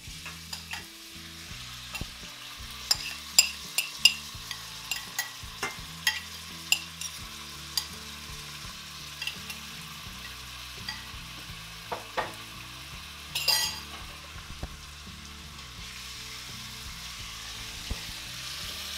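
Chicken gizzards fry with garlic in a pan, giving a quiet, continuous sizzle broken by a string of sharp spatula taps and scrapes, all close up and with no voices.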